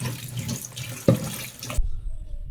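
Vegetables for olan are rinsed under a running kitchen tap, with close, splashing water that pours steadily and then cuts off abruptly near the end, with no talking.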